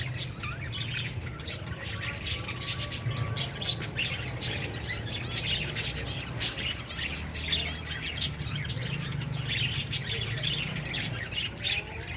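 A cage of breeding pet lovebirds chatters nonstop, shrill squawks and short tweets tumbling over each other at close range, with occasional louder calls rising above the steady flock noise.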